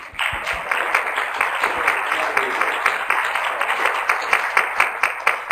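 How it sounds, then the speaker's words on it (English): Attendees at a public meeting on drug development for gastrointestinal disorders give a round of applause, a steady wash of many hands clapping in a conference room, even and sustained throughout. "So please, a round of applause to all of you."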